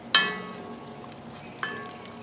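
Flour sizzles and crackles in a hot pan as it is stirred for a blackened crawfish pasta roux, with two sharp scraping clinks of a utensil against the pan over a soft steady fry.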